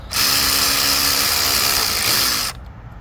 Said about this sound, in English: We're gonna go ahead and screw that down.